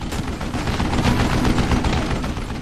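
An old man fires a mounted gun in Call of Juarez: Gunslinger, a loud, continuous rapid burst of machine-gun fire with no break.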